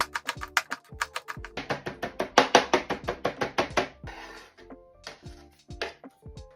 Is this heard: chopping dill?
yes